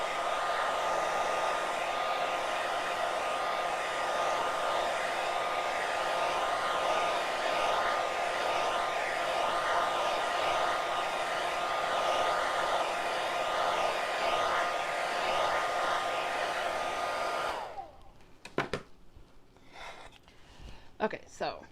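A hair dryer blows steadily and loudly for about seventeen seconds while drying a chalk-painted wood cutout, then cuts off, leaving faint handling clicks and rustling.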